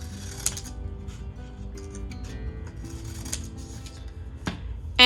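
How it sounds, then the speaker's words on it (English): Scissors cut thin paper rectangles, giving a few crisp snips against quiet background sounds, with one sharper snip near the end. "For the mouths, I'm going to cut out two thin rectangles"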